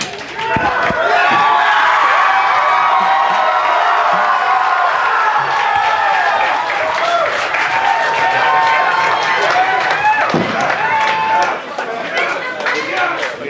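Live audience at a stage show cheering, whooping and applauding loudly for a film-review host, a dense, sustained crowd roar with shouted voices and clapping throughout.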